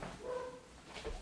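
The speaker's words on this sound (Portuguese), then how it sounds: "deixa o cachorro parar de latir" A dog barks a few times at a moderate distance, short yips and whimpery calls rising over a quiet indoor background with no one talking.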